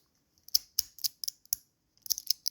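A budget OBEST magnetic fidget slider snaps shut again and again, giving crisp, crunchy clicks in quick uneven bursts. Two clusters of sharp snaps are close and moderately loud, with short pauses between them and no voice.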